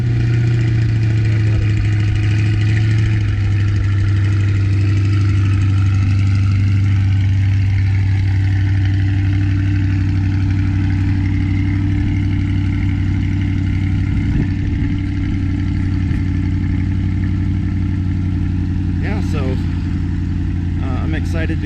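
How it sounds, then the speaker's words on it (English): Chevrolet C8 Corvette idling after a remote start, a loud steady low engine rumble throughout with a small change in pitch early on and a few faint clicks near the end, and a voice talking over it. "But the other cool thing about the C8, you can start it remote start."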